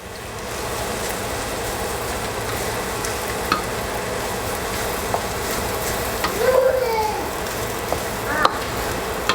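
Fried rice with hotdog, Spam and egg being stirred in a hot pan, with a loud, continuous sizzle and frequent scraping and clinking of the spatula against the pan, close up and without speech.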